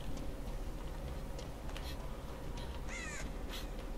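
Crows caw in the Dead by Daylight video game, with a few short harsh calls standing out over a steady low hum of in-game ambience and no talk.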